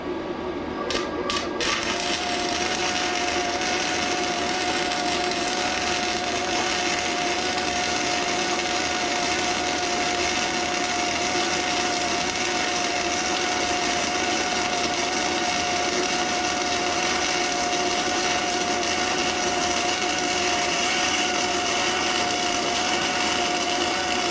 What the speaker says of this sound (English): We'll set her up and see what kind of weld we get.